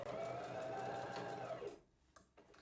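A sewing machine backstitches at the close of a seam on fabric for an invisible pocket, a steady close motor hum with needle rhythm that stops abruptly near the end, leaving faint handling clicks.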